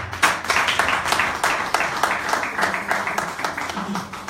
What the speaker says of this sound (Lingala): On acclame très fort pour la gloire.